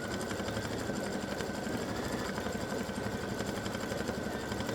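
An embroidery machine stitches a pumpkin design on an in-the-hoop Halloween banner, a steady rapid mechanical whir and needle chatter running continuously and close up with no talking.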